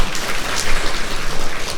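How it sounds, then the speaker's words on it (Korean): An audience at a Jeongseon County lifelong-learning vision ceremony and town hall debate claps for a presenter coming up: a short, loud, close patter of dense applause. "힘찬 박수 부탁드립니다"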